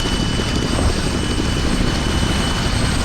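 In the military video game ArmA 3, an armed helicopter flies with a constant loud, dense rotor and engine roar that holds steady throughout, with no talking.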